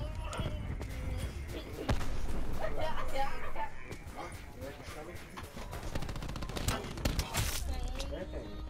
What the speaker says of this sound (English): No, sniper shut me down. I hate this sniper. How you snipe me one bullet?